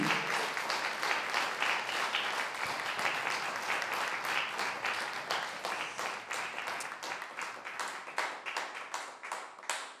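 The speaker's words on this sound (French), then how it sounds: "On peut applaudir" Sustained applause from an audience, many hands clapping densely and steadily, fairly loud throughout with no speech.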